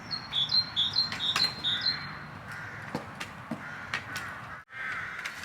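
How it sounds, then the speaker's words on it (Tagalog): Several crows chase a drone high in the sky, giving repeated harsh caws in quick bursts at first and then more scattered, under a faint steady background hum. "Kaya nahabol to pala ng mga ibon"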